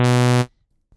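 A Vital synth saw wave with data compress spectral morph plays as a bright, buzzy sustained tone for under half a second, then cuts off abruptly into silence.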